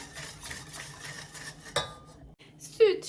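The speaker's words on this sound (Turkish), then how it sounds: "Hiç topak kalmayıncaya kadar bunları güzelce karıştıracağım" A whisk stirs sugar and flour together in a pot for a caramel milk pudding, clinking and scraping steadily against the metal before a short pause, then one sharper clatter near the end.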